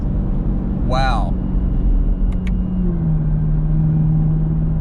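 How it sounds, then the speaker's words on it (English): A Chevrolet Camaro ZL1 fitted with a cold air intake accelerates. A steady engine rumble carries a sustained whine that shifts in pitch midway, with a brief higher sweep near the start and a couple of faint clicks. "So you hear the intake at first, and then the supercharger sound kicks in."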